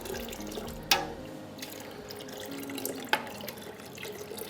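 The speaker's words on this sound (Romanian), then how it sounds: "O să turnăm zeama de lămâie." Lemon juice is poured into a large pot of milk for making tofu-style cheese, giving a soft, steady trickle with a couple of sharper splashes, fairly quiet and with no talk.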